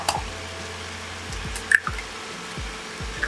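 Two eggs are cracked into a bowl for carbonara sauce. A few soft cracks and wet plops come at irregular intervals, close by and fairly quiet.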